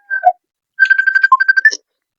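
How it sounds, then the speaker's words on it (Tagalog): A mobile phone ringtone plays for an incoming call, a short two-note chirp followed by a quick run of bright melodic beeps, close and clear in an otherwise quiet room. "May tumatawag."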